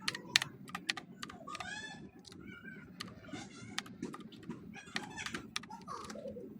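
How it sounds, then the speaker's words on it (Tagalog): A password being typed on a computer keyboard during an Arch Linux install, with quick close bursts of key clicks and a few pauses, plus faint background sounds resembling a cat's meow. "Basta mag-type ka lang, tapos enter."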